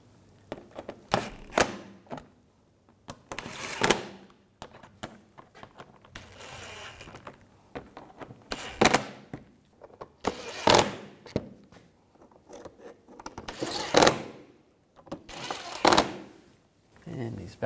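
Bolts on a 2011-2018 Volkswagen Jetta oil filter housing are tightened with a ratchet, giving several bursts of close metallic clicking separated by pauses, with someone talking between them.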